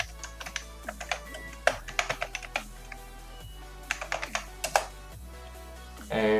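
An email address being typed on a computer keyboard, with irregular bursts of crisp, close key taps separated by short pauses, ending in a louder rustling clatter.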